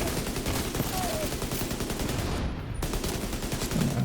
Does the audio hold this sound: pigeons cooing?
no